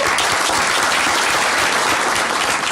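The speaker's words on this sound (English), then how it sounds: "The clapping drives me crazy. It's so close to the microphone." Dense, loud applause right up close, a steady wash of many hands clapping with no voices.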